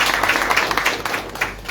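An audience claps at a political declaration by Angolan opposition parties, a brief burst of applause from a crowd that fades out gradually.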